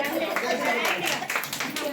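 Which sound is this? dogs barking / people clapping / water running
people clapping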